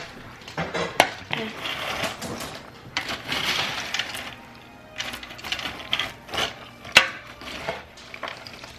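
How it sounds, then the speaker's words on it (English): Cereal snack mix with garlic powder is stirred gently in a bowl, giving continuous rustling and scraping with scattered sharp clinks of a utensil against the bowl, close and moderately loud. "You have to stir it very carefully because you gotta make sure not to crush up the cereal"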